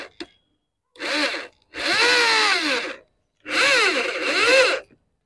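An ACI Smart 550W impact drill drives a screw in three separate bursts of whining motor noise whose pitch rises and falls with speed, with short silent gaps between.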